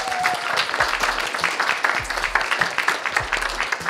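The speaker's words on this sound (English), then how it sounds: "Give a round of applause once more time for Sarah and Adam." A club audience at a science talk night applauds the speakers, a steady patter of many hands clapping at moderate loudness, continuing throughout without talk.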